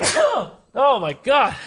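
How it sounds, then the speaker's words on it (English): A person sneezes once loudly up close, then follows with vocal exclamations. "I'm gonna sneeze."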